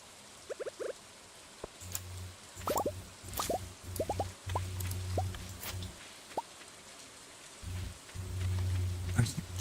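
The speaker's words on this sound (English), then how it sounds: "Ah, it's Green Rain Day." Green Rain falling in the farming video game Stardew Valley Expanded, a soft steady patter with scattered plopping drips and a low hum, fairly quiet with no talk.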